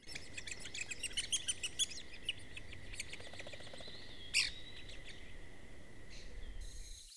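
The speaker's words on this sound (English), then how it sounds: "Bachman sparrow" Bachman's sparrow in a longleaf pine ecosystem, singing a rapid trill of high chirps followed by scattered clear notes and one sharp louder call, fairly distant against a faint insect hum.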